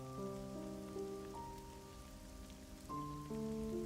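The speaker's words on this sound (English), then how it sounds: "A lot of rain." Soft, continuous rain pattering on surfaces in the video game God Eater 2: Rage Burst, faint and steady, with sustained tonal music notes layered over the rainfall.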